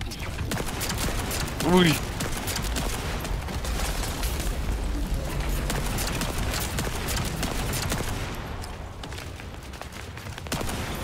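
Rapid gunfire in the shooter game The First Descendant while fighting a boss, dense and continuous under game effects, with a brief exclamation from a man near the start.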